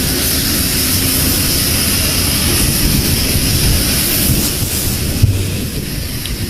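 A loud, continuous roar from an aircraft at Bamako airport on arrival, with dense broadband rumble and hiss sustained throughout and a brief bump near the end, heard alone without talk.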